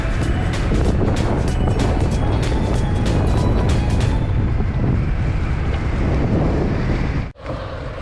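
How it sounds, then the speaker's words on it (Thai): Heavy, constant wind buffeting a microphone outdoors below a dam while gathering red ant eggs, a loud rumbling roar that briefly cuts out near the end and then returns. "มีเสียงลม"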